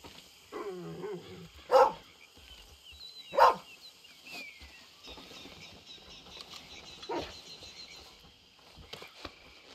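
Two sharp dog barks ring out about a second and a half apart in Red Dead Redemption 2, fairly close and clear, with faint outdoor ambience and smaller scattered sounds filling the rest.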